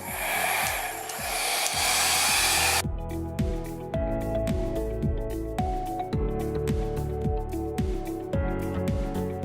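A handheld hair dryer fitted with a concentrator nozzle blows on hair roots, giving a loud, steady rushing whoosh for about three seconds over a beat of background music, which then carries on alone.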